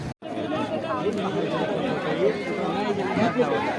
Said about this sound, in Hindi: बहुत खतरनाक भीड़ लगा है।